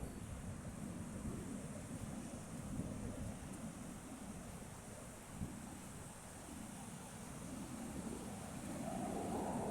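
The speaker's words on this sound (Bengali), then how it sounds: "সাগরের ঢেউটা দেখেন।" Sea waves roll in as a steady, fairly faint surf wash mixed with wind noise, a low continuous roar with slight swells and no talking.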